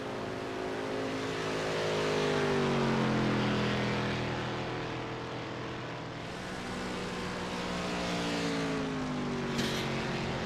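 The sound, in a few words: race cars crossing the finish line at Daytona, from the video game iRacing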